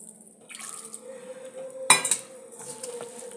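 A little water is poured into onion vada batter made with egg, a soft trickle and drips under a sharp clink of a utensil against the bowl midway, with faint clatter of kitchenware throughout.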